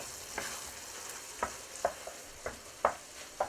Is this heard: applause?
no